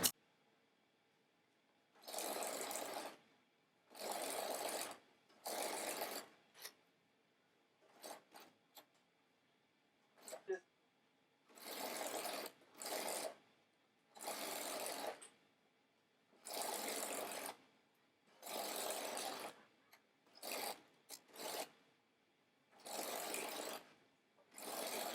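A sewing machine runs a stretch stitch while attaching a fabric band to a top, whirring in repeated short bursts of a second or two separated by quiet pauses, with no talk.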